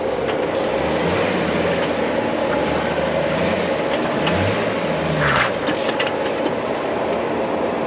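Off-road vehicle with a manual transmission driving over rough terrain at Moab, Utah, a loud continuous engine rumble with low revving swells and rattling clatter, close and without talk.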